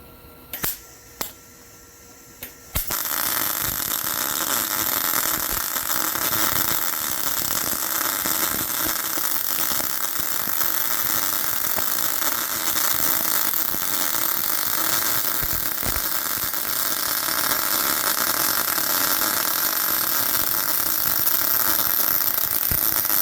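A Harbor Freight Titanium 140 Unlimited welder lays a bead after a few brief clicks: a loud, continuous crackling hiss with constant sputter that holds steady close by for the rest of the clip.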